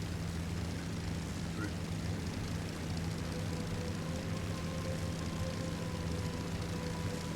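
A de Havilland Mosquito in a flight simulator game drones with a loud, constant propeller-engine roar and steady low hum throughout, with no clear rise or fade.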